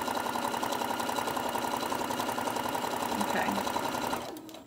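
A sewing machine quilts a fabric mat with batting in a steady, close, continuous mechanical whir that stops abruptly near the end, and a voice speaks briefly.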